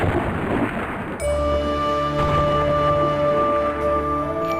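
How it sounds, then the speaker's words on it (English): Thunder rumbles low and heavy beneath falling rain at the start of the rainy season, then gives way to a steady tonal hum that carries on to the end. "As the first thunder of the year is heard"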